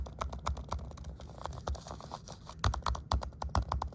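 Typing on a MacBook Air 2019 laptop keyboard, close and fairly quiet: quick clusters of soft, shallow key clicks in an uneven patter, with a denser burst near the end and no talk.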